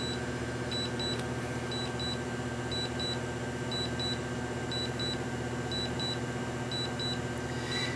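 A DJI Phantom 3 flight simulator setup emits short paired electronic beeps at a regular rate, about one pair per second, over a constant low background hum.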